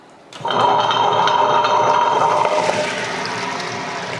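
Wet grinder starts up grinding soaked urad dal in its water, a sudden loud onset followed by a steady whirring, churning hum with faint rhythmic scraping, close by.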